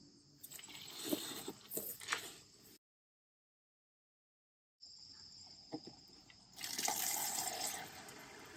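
Water splashes and trickles as it is poured onto dry indoor plants, soft liquid sounds broken by a sudden gap of silence, with faint insect chirping in the background.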